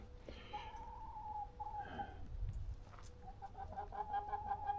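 Chickens cluck softly in a farmyard on a cold day, with a few short calls and some longer tonal clucks over a low background hum.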